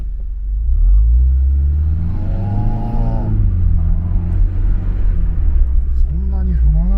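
A Toyota GR86 accelerates uphill in Super sports mode, its engine a steady close rumble that rises in pitch as it pulls, with a voice talking over it throughout.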